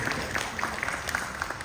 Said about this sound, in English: Big round of applause for Madam Samantha,